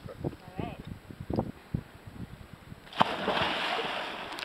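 A person jumps into open water at a lagoon during a coaching session, landing with a sudden loud splash and sloshing that follows brief talk and coaching voices.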